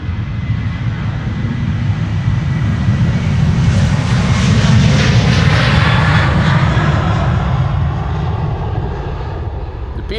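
Airliner PH-BCA, a 14-year-old jet, roars on departure from Amsterdam Schiphol, a loud sustained engine rumble swelling to a peak mid-clip then easing slightly as it climbs away, with no talk.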